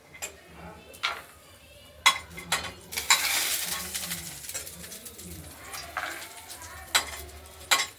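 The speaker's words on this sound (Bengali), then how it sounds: "যেরকম বড়ি ভাজা হয় সেরকমই ভাজতে হবে।" Small lentil dumplings (bori) frying in oil in a pan, a soft continuous sizzle with stirring scrapes and clinks, while pigeons coo in the background.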